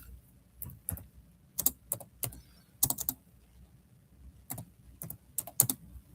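Bursts of typing on a computer keyboard during a live sterling jewelry sale, with quick clusters of keystrokes separated by pauses, close and fairly clear against a quiet room.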